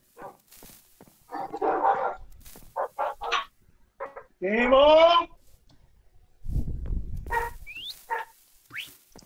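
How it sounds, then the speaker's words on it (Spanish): Dogs in the video game Minecraft bark in short sharp yelps and whimpers, mixed with lively talk and exclamations from players. "ven qué bonitos son los perros de panda"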